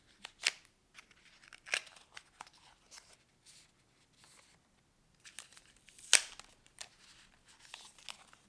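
Packaging for red Beats Studio Buds earbuds is opened up close: scattered sharp snips, crinkles and tearing of card and plastic, with quiet gaps between and one loud crack near the end.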